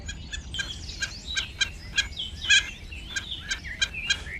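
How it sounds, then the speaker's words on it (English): Repeated bird calls ring out from a forest, likely a wild wood duck: a steady series of sharp, high chirps about twice a second, moderately distant and echoing, with no talking. "Yugi heard a strange call echoing from the forest"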